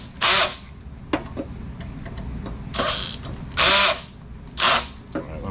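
A ratchet socket wrench tightens parts on a MotoTec Fat Boy Harley-style scooter during assembly, with several loud bursts of ratcheting separated by clicks and handling noises, close up.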